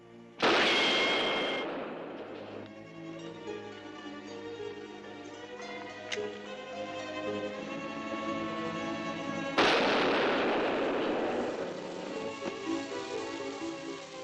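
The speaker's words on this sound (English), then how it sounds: "Gurney, using your dynamite on you just like you and Jameson did to seal in the old man's body." A dynamite blast seals a mine in a Western drama, heard as two heavy booming explosions separated by several seconds, each with a long rumbling tail that fades under a sustained orchestral score.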